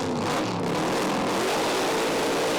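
Pro Alcohol drag racing cars at East Coast Thunder in Sydney, engines roaring loud and dense without a break, a hard sustained rev filling the whole stretch.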